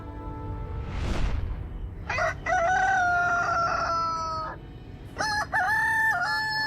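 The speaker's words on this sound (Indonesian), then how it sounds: "Ini suara yang berkokok." A rooster crows loudly twice, long drawn-out calls close by, following a brief whoosh of noise at the start.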